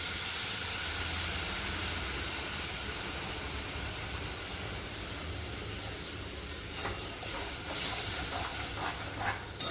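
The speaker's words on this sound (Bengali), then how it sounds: "এটা তেল ছাড়া পর্যন্ত একটুখানি এটা ভাজবো" Spice paste frying in oil in a pan for a vegetarian paneer dish: a steady, soft hiss that continues throughout and grows a little louder and crackly toward the end.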